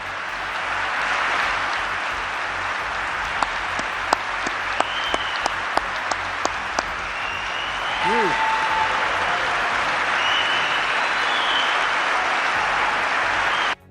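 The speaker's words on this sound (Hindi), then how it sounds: "सभा में बैठे कई अंतर्राष्ट्रीय प्रतिनिधि खड़े होकर ताली बजाने लगे" International delegates applaud during Donald Trump's speech in Saudi Arabia: steady, dense clapping fills the room for about fourteen seconds, with a few sharper individual claps standing out and a brief tonal sound midway.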